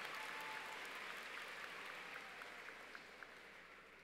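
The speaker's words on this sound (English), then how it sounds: "I'd like to give Ms. Sage a round of applause" Applause from the audience at a 2023 high school graduation ceremony, a steady wash of clapping heard from a distance and at low level that slowly tapers off.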